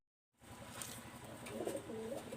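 Pakistani teddy pigeons coo faintly in a soft, low murmur that starts after a moment of silence and continues steadily at a distance, with a bit of background rustle.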